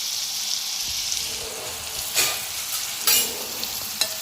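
Garam masala is stirred into a crab curry frying in a pan, giving a steady sizzle with a few spoon scrapes and clinks.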